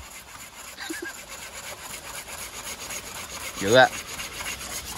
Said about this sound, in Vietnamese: Thôi đưa cưa chắc đi. Cưa được lên.